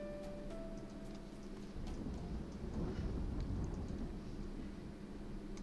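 A low, distant thunder rumble swells and rolls for several seconds beneath a steady background hum, faint and drawn out with no sharp crack.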